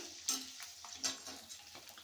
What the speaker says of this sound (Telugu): కదుపుతూ ఉండాలి ఈవెన్గా ఫ్రై చేయాలి వీటిని ముక్క మెత్తబడే వరకు వేయించుకోవాలి